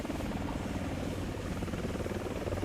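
Apache attack helicopter in the combat game War Thunder, a steady droning rotor thrum with a low pulsing chop that holds even and loud throughout.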